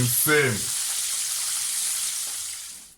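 Chilli chicken frying in hot oil, a bright continuous sizzle that holds steady and fades at the end, with a brief voice at the start.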